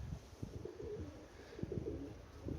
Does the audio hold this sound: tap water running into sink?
no